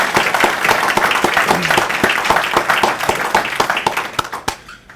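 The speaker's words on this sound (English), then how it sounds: "give a round of applause to Dave Jeffords" Lively audience applause at an annual meeting following a presentation, with close, sharp individual claps over the crowd, fading out abruptly near the end.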